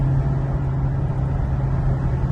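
A red V8 truck of roughly two to three tons gives a steady, loud, low engine drone that holds an even note throughout, with no voices.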